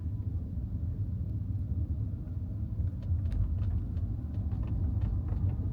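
A Tesla Model Y on Full Self-Driving rounding a roundabout, heard from inside the cabin as a steady low road rumble and tire noise with no talking.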